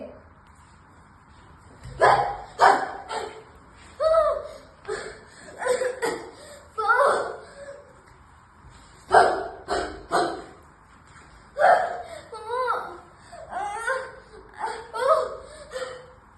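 A performer in a mono-acting stage piece imitates dogs barking with his voice, giving repeated sharp barks and yelps in bursts, close and loud, with laughter mixed in.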